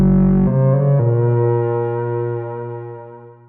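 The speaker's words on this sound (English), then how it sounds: "So I'm using Trash 2, which is a nice multiband distortion plugin." Synth patch built in Vital and run through Trash 2 multiband distortion, a dark, buzzing sustained tone with a stepped pitch shift early on, ringing out and slowly fading over a few seconds.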